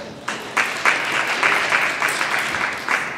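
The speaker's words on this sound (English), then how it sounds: "give yourselves a round of applause" Audience at a 2014 Kwanzaa event breaking into applause, a close, lively burst of clapping with rhythmic surges that holds steady throughout.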